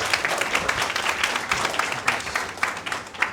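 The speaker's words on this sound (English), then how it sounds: "Can you please give big round of applause for our first speakers?" Audience applause at a lecture on wood construction: steady clapping from a moderate-sized crowd in a hall, dense and even for several seconds with no voices over it.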